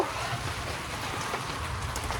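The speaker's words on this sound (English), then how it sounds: "This is not light rain." Heavy rain pours down outside a hoop house, a dense, steady hiss of drops drumming on the surface and ground without a break, loud and close.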